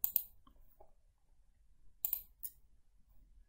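A few sharp, faint computer mouse clicks in a quiet room, two isolated taps near the start and a small pair about two seconds later.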